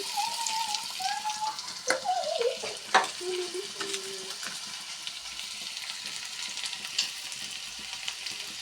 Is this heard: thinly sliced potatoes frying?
yes